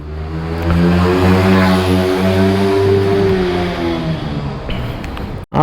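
A motorcycle engine accelerates during a ride, its droning tone climbing steadily in pitch, then dropping off into rougher rumble before a sharp knock at the end.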